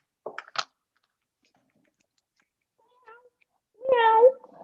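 A person imitates a cat, meowing into a phone with a short harmonic mew that follows a couple of brief clicks and a long stretch of near silence.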